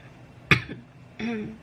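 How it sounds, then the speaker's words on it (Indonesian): A single sharp cough, close and abrupt, followed by a brief low voiced sound a moment later. "Maaf ya, batuk sedikit."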